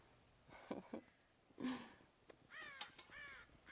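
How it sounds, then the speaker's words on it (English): Crows caw repeatedly in the Red Dead Redemption video game, harsh calls scattered over several seconds, with a burst of overlapping, wavering cries near the end. "God damn crows!"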